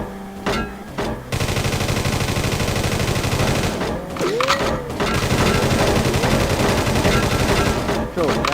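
Suspect's gunfire in World's Scariest Police Chases, the PS1 pursuit game: dense, continuous bursts of shots under a siren-like wail and engine noise, with brief gaps, loud and close throughout.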